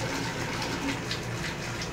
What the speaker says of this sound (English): next you go through a cold water rinse for about 30 to 60 seconds